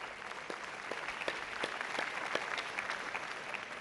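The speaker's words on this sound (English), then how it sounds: "We all need to applaud these achievements and advancements." Audience applause at a global women's forum, a soft, even wash of many hands clapping heard from a distance and holding steady throughout.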